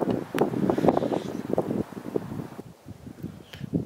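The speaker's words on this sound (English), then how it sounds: "Still windy." Wind gusts buffet the microphone outdoors during a snowstorm on a farm, with loud irregular blustery rumbling and rustling that eases briefly before picking up again.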